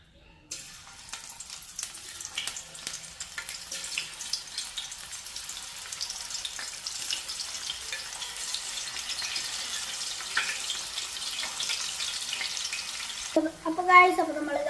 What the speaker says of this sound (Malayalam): നമ്മുടെ ഓയിൽ അടിപൊളിയായി ചൂടായിട്ടുണ്ട്. നമുക്ക് നമ്മുടെ കായ റൗണ്ട് ഷേപ്പിലുള്ളത് ഒന്ന് ഇട്ട് കൊടുക്കാം.